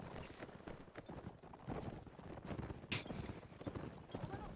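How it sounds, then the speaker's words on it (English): Horse hooves clip-clop on ground in a cavalry line battle video game, a rapid, busy run of hoofbeats at moderate distance with scattered impacts and faint background noise, no talk. "Wait, there's another horse here."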